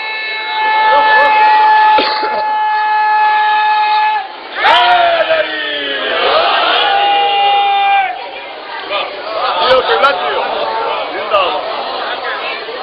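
Crowd at a Shia majlis shouting religious slogans in unison, loud sustained chants with rising and falling voices, a brief pause, then another burst of shouted slogans and scattered voices continuing to the end.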